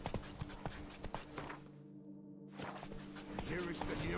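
Geralt's horse Roach in The Witcher 3 gives a close run of rhythmic hoof clip-clops that break off briefly and then resume under game music and a faint voice.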